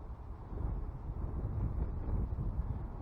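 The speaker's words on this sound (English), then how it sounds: "the wind's really picked up" Wind blows hard by the Cape Cod Canal, a steady low roar buffeting the microphone, loud and constant with slight gusting surges.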